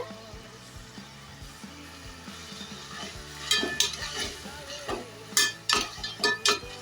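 Tomatoes sizzle gently in a pan while a spoon stirs and scrapes, with clinking bursts growing more frequent in the second half.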